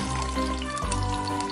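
Cooking sizzle in an animated Halloween cartoon, a short, loud, steady frying hiss with a watery edge and a low tonal hum underneath, and no talking.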